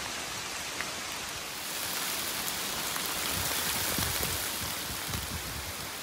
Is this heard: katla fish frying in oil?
no